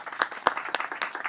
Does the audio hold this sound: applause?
yes